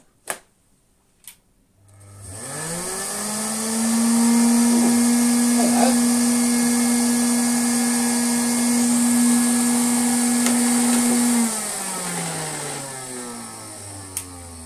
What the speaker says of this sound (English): Hey, that runs. But the motor isn't sounding great, but it runs